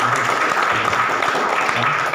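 An audience claps steadily in an indoor hall, a dense even patter of applause at moderate volume, with a voice speaking faintly underneath.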